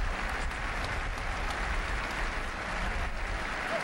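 A college football crowd in Evanston applauds as injured Wisconsin player Hogan is carted off the field, a broad, steady wash of distant clapping from the stands with no announcer voice over it.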